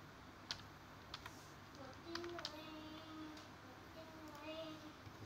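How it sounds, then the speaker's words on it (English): Computer keyboard typing on a booking website, soft scattered key clicks, faint and close, amid a low background hum with a voice speaking intermittently. "You just type Kokut."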